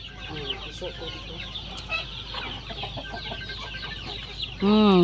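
Many native and Red Island chickens cluck on a provincial farm, a busy chorus of overlapping clucks and squawks close by, ending with one loud, drawn-out call.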